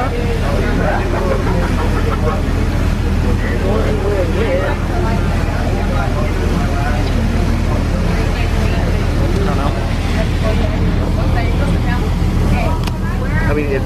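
Boat moving on water, a steady low engine drone with water and hull noise throughout, while people talk over it close by.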